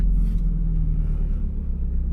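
A Toyota GR86 idles steadily nearby, a low, even engine rumble with no speech over it.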